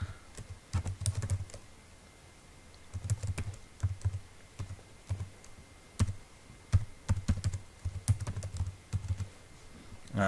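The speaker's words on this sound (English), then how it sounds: "I'm going to type in the name of my SQL instance" Typing on a computer keyboard while entering a SQL instance name during software setup, with bursts of close, crisp key taps separated by short pauses.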